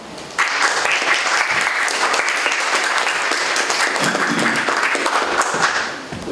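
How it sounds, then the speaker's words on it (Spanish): An academic lecture audience breaks into applause welcoming a speaker, starting abruptly and holding as steady, full clapping with a brief dip midway before fading slightly. "lo dejo con ustedes a José Antonio Mazzotti, a quien esperamos darle un buen aplauso"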